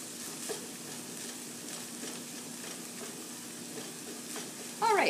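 Ground beef and onions frying together in a pan over medium heat, giving a steady, even sizzle throughout, with a brief louder burst near the end.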